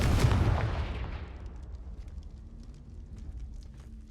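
A Confringo fire spell from the Hogwarts Legacy video game bursts at a brazier with one loud, close boom, and its rumbling tail fades away over several seconds.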